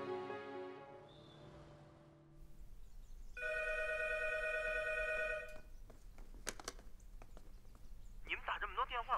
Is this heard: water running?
no